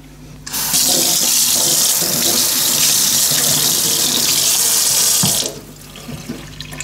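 Tap water running while rinsing a piece during a DIY Art Deco wall sconce project, a loud, steady gushing splash that starts abruptly, holds for about five seconds and then stops.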